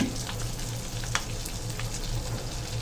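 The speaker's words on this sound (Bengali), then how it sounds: "হালকা একটু নাড়াচাড়া দিয়ে দিচ্ছি বিশ সেকেন্ড এইভাবে নাড়তে থাকবো ক্যাপসিকাম দিয়ে দিচ্ছি" Chopped ginger and capsicum stir-fried in a pan for egg vegetable pasta, a quiet continuous sizzle with a few light stirring scrapes over a low steady hum.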